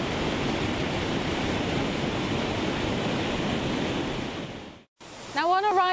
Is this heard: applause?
no